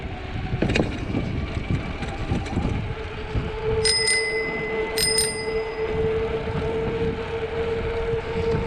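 Bicycle bell on a bike on a winter ride along the Man O' War Trail in Pine Mountain, Georgia, rung twice in quick double dings, bright and close over steady wind and rolling noise.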